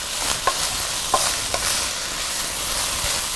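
Hamburger meat and onions stirred in a pan give a constant close sizzle, broken by a few sharp scrapes and taps of the utensil against the pan.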